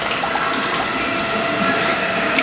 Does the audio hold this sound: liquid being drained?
yes